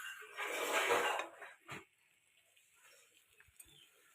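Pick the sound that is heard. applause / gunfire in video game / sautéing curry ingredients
sautéing curry ingredients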